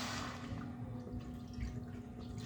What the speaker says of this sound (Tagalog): Next ay maglalagay po tayo ng water.